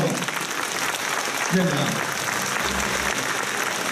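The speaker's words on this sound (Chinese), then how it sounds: "我们现在热烈的掌声欢送" Warm, steady applause from a seated audience sees off a former premier, someone speaking briefly over the continuous clapping.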